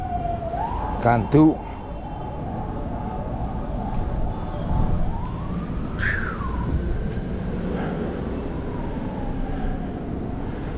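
An ambulance siren wails in slow rising and falling sweeps as it passes on a street, moderately loud, with people talking over the traffic noise.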